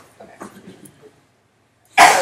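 A person sneezes once, loud and close, in a lecture hall, after a stretch of soft murmuring and quiet.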